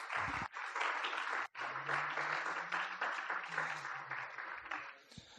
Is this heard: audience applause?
yes